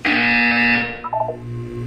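A test chamber buzzer in the video game Portal 2 blares as one loud, harsh electronic tone for about a second, then cuts off into a short trailing electronic chirp over a low hum.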